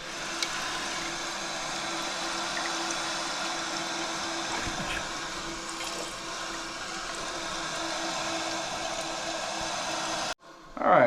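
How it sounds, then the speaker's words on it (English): A newly installed toilet tank fills with water: a steady, close rushing hiss that holds for about ten seconds before cutting off abruptly. "we got the water running"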